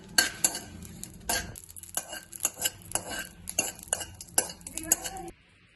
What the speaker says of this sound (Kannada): ನೆಕ್ಸ್ಟ್ ಅದೇ ಬಾಣಲಿಗೆ ಸ್ವಲ್ಪ ಮೆಣಸಿನ್ಕಾಯಿ ಹಾಕ್ಕೊಂಡು ಎಣ್ಣೆ ಹಾಕ್ಕೊಂಡು ಹುರ್ಕೋತಾ ಇದ್ದೀನಿ